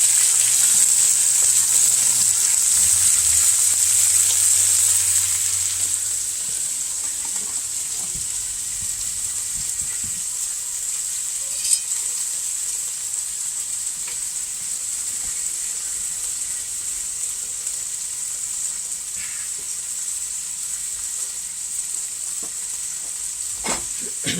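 Onions frying in a pan as the base for collard greens, a continuous loud hiss and sizzle that holds steady throughout, with a high whine fading early and a few faint clinks.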